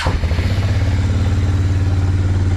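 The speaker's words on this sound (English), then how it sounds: "start the beast up and run the engine for a while" A quad bike engine idling after being started, a loud, close, steady low rumble with an even throbbing pulse and no talking.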